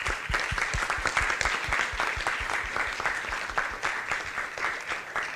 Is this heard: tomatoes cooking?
no